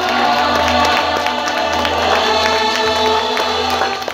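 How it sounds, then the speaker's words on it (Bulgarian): Guests at a wedding applaud the mother-in-law with loud, dense, continuous clapping from a crowd, nearby and steady throughout. "Силни аплодисменти, дами и господа"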